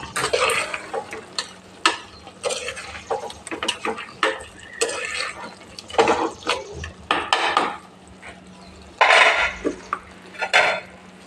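Chicken coconut curry being stirred in a pot: repeated scraping and clinking of a spoon against the metal, in irregular bursts, close and fairly loud, with no talking.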